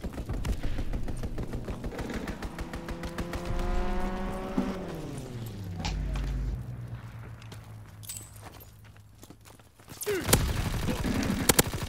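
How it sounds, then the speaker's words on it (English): Strafing-run gunfire in a WWII shooter: rapid bursts of shots rattle through, an aircraft roar sweeps downward in pitch, then a quieter lull before another loud burst of fire. "Call for a strafing run."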